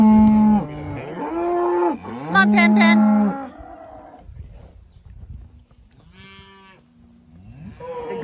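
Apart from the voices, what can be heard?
cows mooing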